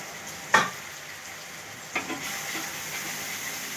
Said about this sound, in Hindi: 2 मिनट तक मसाले को भून लीजिए आप